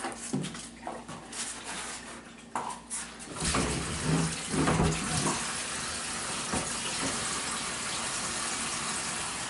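Water pours steadily into a pet's water bowl, starting after a few soft clunks and settling into a continuous gentle gush.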